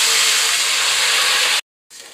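Water poured into a cooking pot for rice, a loud continuous hissing rush that stops abruptly, then briefly resumes after a short silence.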